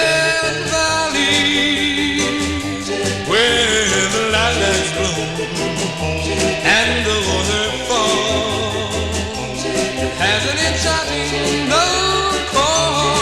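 A 1961 Felsted single plays as a full, loud band arrangement with a steady rhythm that continues without pause.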